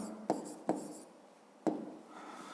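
A pen on paper writes out a maths answer by hand, faint scratching broken by three sharp taps or strokes in a quiet room.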